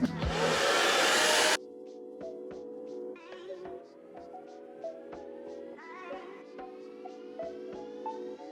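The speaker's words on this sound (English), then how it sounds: "Let's start the blow drying process, which it's not my favorite part." A hair dryer blasts loudly and close while blow-drying curly natural hair being straightened, a roaring gust for about a second and a half, then a quieter steady hum continues with a tonal whine.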